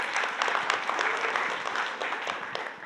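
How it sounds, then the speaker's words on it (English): An audience at a design talk claps for the people on stage, a brisk, crowded round of applause with sharp individual claps standing out before it begins to thin at the end. "So a round of applause even to Rachel and you guys on the stage"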